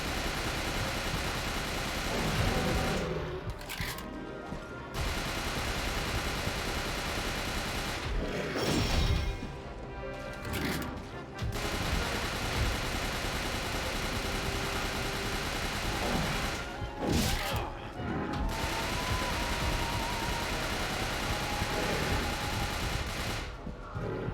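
Sustained video game gunfire from a handgun and a submachine gun, dense and continuous across the whole stretch with repeated bursts and louder surges, mixed with an engine-like rumble.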